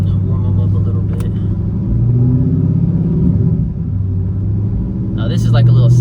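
A Chevy SS with a stock LS3 engine rumbles and revs nearby, its deep, steady idle swelling into a couple of throttle blips, with someone talking over it.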